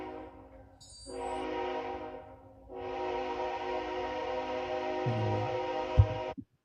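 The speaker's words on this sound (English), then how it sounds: "Sorry, that train is in the background." A train sounds its horn in the background in two long, steady blasts separated by a short gap, followed by a few soft thumps at the end.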